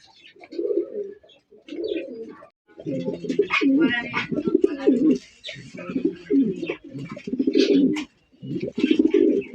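Several racing pigeons coo in repeated low, throaty bursts with short pauses between them. A breathy chirp sounds now and then, all close up and steady across the stretch, with no talk heard.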